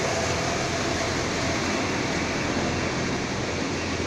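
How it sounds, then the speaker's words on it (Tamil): An exhaust fan blows hot air out of a building in Kuwait, giving a steady, loud broadband whoosh that runs unbroken throughout with no voices. "இது ஃபேன் எதுக்கு போட்டிருக்காங்கன்னா, இந்த எங்களோட ஹீட்டெல்லாம் வந்து வெளியே போடுறதுக்கு."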